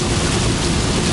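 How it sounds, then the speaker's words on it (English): Heavy rain with thunder heard from inside a moving vehicle, a dense, loud, continuous wash of drumming rain and road noise, steady throughout with no talking. "submitting you to the road noise, the rain noise, and the wipers"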